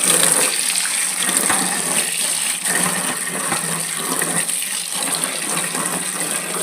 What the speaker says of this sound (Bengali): আলুগুলো এরকম ছোট ছোট করে কেটে নিয়েছি ভালো করে এখন ধুয়ে নেব